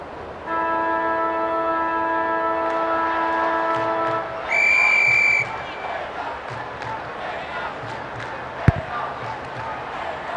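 An umpire's whistle sounds in the AFL 26 football video game, a long steady blast followed by a shorter shrill one, with crowd noise and talk continuing around it.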